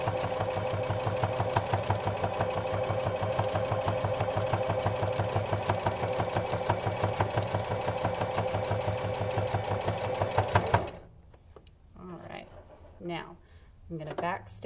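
An electric sewing machine stitches a fabric mask with a fast, steady mechanical whir for about ten seconds, then stops abruptly, followed by a person speaking over quiet background.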